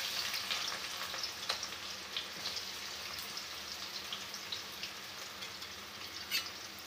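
Chopped onions frying in white oil for chicken chowmein, a steady close hiss and crackle with occasional brighter pops and light stirring, no voices.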